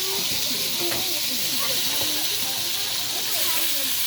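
Bean sprouts hiss and sizzle steadily in a hot pan alongside garlic and onion, a continuous close frying noise with faint clinks in the background.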